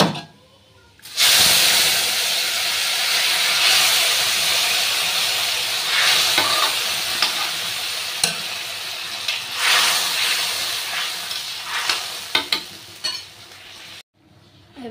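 Boiled mixed dal with tamarind water hits hot tempering in a pan, erupting into a loud, sustained hiss and sizzle that gradually settles, punctuated by stirring clanks and scrapes before cutting off near the end.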